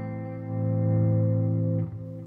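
A minor seven chord strummed once on guitar swells and sustains as a warm, steady ringing tone, close and clear, then fades with a slight string or handling noise at the end.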